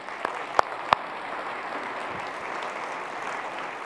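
An audience applauds at a presentation in a soft, distant wash of clapping, with a few sharper individual claps standing out near the start.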